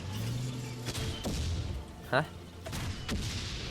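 Several sharp gunshots crack out in quick bursts in the video game Valiant Hearts: The Great War, amid a noisy, busy mix, with a voice talking underneath.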